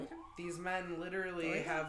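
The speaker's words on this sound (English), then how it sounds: "Sorry for the sirens" Emergency sirens wail outside, rising and falling in clear tonal sweeps, fairly faint behind a person talking close by.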